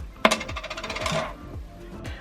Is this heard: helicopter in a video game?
no